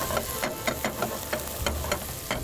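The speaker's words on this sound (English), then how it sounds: "the flavor of the chicken will go in the tomatoes when they are frying nicely and evenly" Tomatoes fry with chicken in a pan, a steady sizzle under regular scraping stirs that come roughly every quarter second, close and fairly loud.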